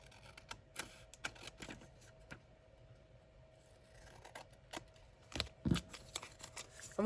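Scissors snip through paper Christmas gift tags in a quiet craft setting, with a series of short, crisp cuts and small rustles scattered across the clip and a few louder snips near the end.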